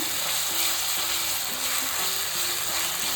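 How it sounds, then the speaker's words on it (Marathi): Ginger-garlic paste sautés in a hot pan, a steady close sizzle with faint scraping of a spatula, continuous and alone without voices. "परतून घेऊया, त्याचा कच्चेपणा दूर व्हायला पाहिजे आलं लसणाचा"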